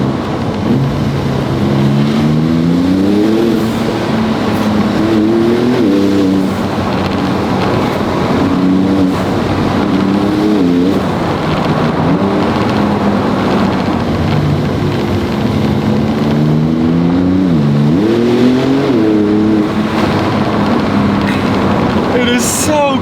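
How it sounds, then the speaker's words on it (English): Porsche 911 (992) Turbo S with 650 horsepower and all-wheel drive accelerating hard on a forest road, a loud sustained engine roar with rising and falling turbo-charged pitch sweeps, heard steadily throughout. "Did you hear those turbos?"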